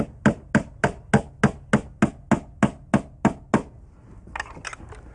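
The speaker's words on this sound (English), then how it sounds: "And you nail right through the casing." Hammer driving 8-penny galvanized common nails through wooden door casing: twelve crisp, evenly spaced blows close by in a steady rhythm, followed by a few lighter taps after a brief pause.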